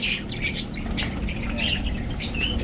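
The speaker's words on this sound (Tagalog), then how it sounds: "yung African lovebirds." African lovebirds in an aviary give sharp, piercing squawks and chirps over a constant background of bird chatter, with a couple of loud bursts close by.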